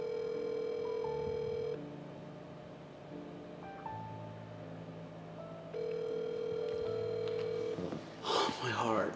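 A phone call goes through, with steady electronic ringback and dial tones sounding in long even stretches that change pitch, followed by a burst of clattering noise near the end.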